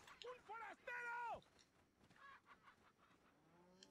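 Chicken clucking in Resident Evil 4, a series of loud, bright squawking clucks in the first second and a half, followed by fainter clucks and game sounds.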